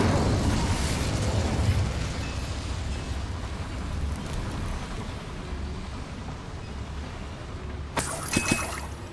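Spell effects in Hogwarts Legacy, Confringo, Bombarda, Glacius and Incendio, rumble and crackle as rolling blasts, then a sharp shattering burst near the end, loud and with no talking.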